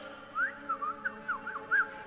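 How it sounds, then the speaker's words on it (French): A cartoon Smurf whistles a little tune, several short wavering notes and slides in an uneven melody, clear and close against a quiet background. "je crois que je préfère siffler un petit air pour me schtroumpfer du courage"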